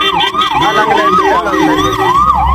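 A loud ambulance siren wails in a steady rising and falling cycle close by, with traffic and crowd noise beneath it.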